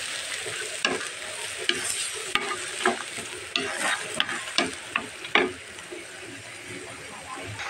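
Masoor lentils are sautéed in a pan, with irregular spoon scrapes and clacks over a steady sizzle that fade toward the end.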